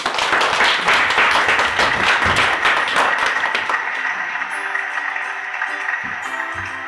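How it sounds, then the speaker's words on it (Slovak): An audience applauds performers playing hares in a children's storytelling show, a few seconds of lively clapping that fades as a voice begins talking. "Potlesk pre zajace."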